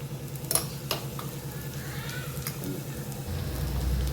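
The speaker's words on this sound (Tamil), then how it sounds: "இப்போ பூண்டு வதங்கிடுச்சு. கொஞ்சம் மிளகாய் பொடி போடணும்" Garlic frying in oil in a pan as chili powder goes in, a steady soft sizzle with a few sharp clinks of a spoon near the start and a low background hum throughout.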